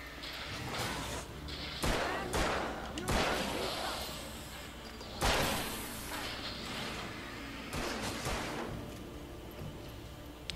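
Gunshots ring out in the Alan Wake video game, several loud sharp reports spaced a second or two apart over a dense background of game noise, with someone talking faintly.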